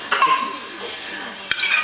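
Knife and cutlery scraping and clinking against a dinner plate at a family table, a few close light scrapes with a sharp clack near the end, no talk.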